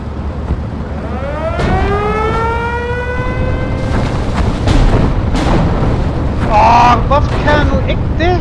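Artillery barrage in the WWII strategy game Steel Division: Normandy 1944, with a rising siren-like whine, booming impacts and rumbling blasts building over a steady battle din, partly under voices.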